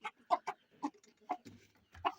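Chickens crowd around close by, giving a series of short, distinct clucks in an uneven rhythm against an otherwise quiet background.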